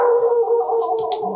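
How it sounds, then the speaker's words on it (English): Dogs howl in a sustained, loud, close wail for the whole moment, with a couple of short barks breaking in near the end. "Sorry about the dogs barking."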